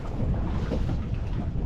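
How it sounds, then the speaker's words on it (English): Rain pours heavily onto a fishing boat out at sea, a dense, close, continuous patter with a deep rumbling roar and no voices. "That rain feels so good."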